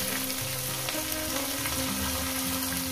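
Chopped onion frying in hot oil for a gili curry, a dense, even sizzle that stays close and steady throughout, with faint stirring underneath.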